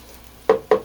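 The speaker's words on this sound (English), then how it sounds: "Now I'm gonna add the wine." Wine poured over nearly cooked onions in a hot pan for French onion soup gives two short, sharp sizzling bursts close by, separated by a brief pause.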